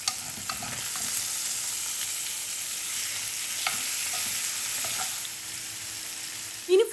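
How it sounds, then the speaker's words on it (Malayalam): Fish frying in a pan for fish biryani, a steady soft sizzle with occasional stirring scrapes, heard alone at moderate level throughout. "ഇനി ഫ്രൈ ആക്കാൻ ഇട്ട് കൊടുത്തിട്ടുണ്ട്."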